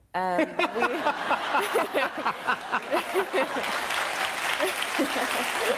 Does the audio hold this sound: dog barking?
no